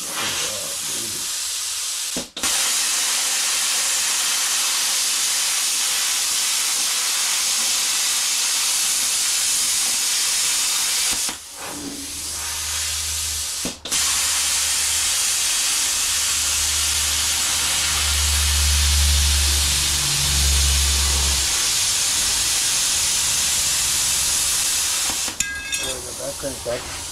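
A cutting torch roars with a steady loud hiss while cutting out rust on a 1968 Mustang, running continuously with a few brief breaks, and someone speaks now and then over it.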